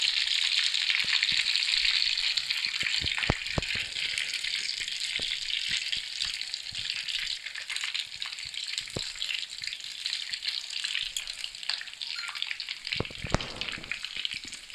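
Beef-stuffed potato kababs fry in a pan with a constant close sizzle, broken by scattered sharp pops and crackles as they turn over, and no voices.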